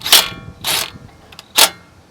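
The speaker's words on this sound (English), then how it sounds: "I just easily snugged it down with a 10mm socket" 10mm socket ratchet snugging down a strut bolt on a 2013 Dodge Grand Caravan, three short, sharp metallic clicks spaced about half a second to a second apart, close by.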